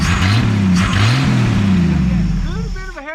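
A 1964 Chevrolet Biscayne, revived after about 20 years abandoned, revs close by in loud rising and falling surges, then eases off as a higher whistling tone appears near the end.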